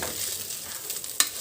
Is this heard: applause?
no